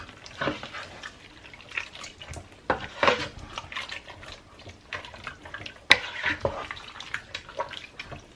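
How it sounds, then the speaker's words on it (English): Three bean chili being stirred in a pot: soft wet sloshing with scattered scrapes and knocks of a utensil against the pot, irregular and fairly quiet, close by. "So I'm going to stir everything up."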